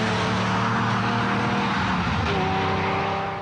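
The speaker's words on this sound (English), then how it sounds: "The car he is driving is a Lamborghini." A 1987 Lamborghini Countach engine roars loud and close, holding a strained high-revving tone with a shift in pitch partway through.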